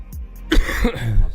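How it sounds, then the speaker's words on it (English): A close, muffled throat-clearing cough lands right on the microphone, followed by a couple of rough, gravelly follow-up rasps. "I apologize for coughing into the mic there."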